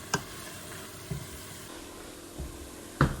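Red pepper flakes sauté in a soup pot at the start of chicken noodle soup, giving a faint, steady sizzle with a few soft knocks and scrapes of stirring at irregular intervals.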